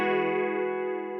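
Sustained chord from a Fender Acoustasonic Stratocaster guitar run through an SSL channel EQ with added top end, ringing steadily and loud for over a second with rich layered harmonics, no voices.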